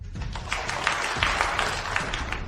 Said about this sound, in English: let's give a warm round of applause for the board directors